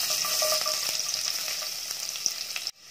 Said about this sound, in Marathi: तेल आता तापलंय चांगलं, त्यामध्ये 7 ते 8 लसणाच्या पाकळ्या चांगल्या ठेचून टाकले